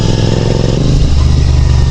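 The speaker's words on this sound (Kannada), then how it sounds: "ಈ climate and that exhaust not ಖತರ್ನಾಕ್ ಬರ್ತಿದೆ ಸೌಂಡ್ ಮಾತ್ರ." A Benelli TNT 600 four-cylinder motorcycle's exhaust gives a loud, close, steady deep engine roar with a dense low rumble, sustained throughout without any pauses.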